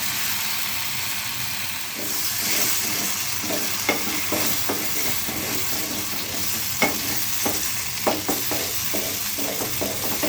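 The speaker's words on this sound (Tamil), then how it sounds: "கைவிடாமல் வந்துட்டு இதை நல்லா கிளறிட்டே இருக்கணும்." Steady sizzling in a hot pan with repeated scraping strokes of a spoon stirring thick jackfruit halwa, irregular scrapes rising over the constant frying hiss.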